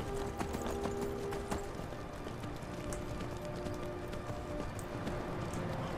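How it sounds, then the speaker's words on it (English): Horse hooves clip-clop steadily in the Skyrim video game, a continuous rhythmic clatter of game sound effects at moderate level with no talk over them. "I've got a horse as well now."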